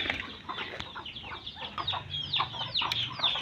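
Backyard chickens cluck and chatter nearby, with a run of quick rising and falling calls and squawks, some louder than others, over a faint outdoor background and no speech.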